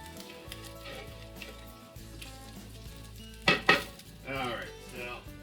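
Bacon sizzles in a pan as its fat renders out, a steady soft crackle with two quick clattering knocks midway and faint background tones underneath.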